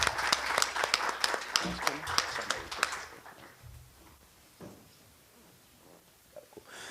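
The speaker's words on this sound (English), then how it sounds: "please join me in a round of applause for our former board member" A small audience at a community board meeting claps for a former board member, a brief scattering of distinct hand claps that quickly fades, followed by quiet room noise and faint voices.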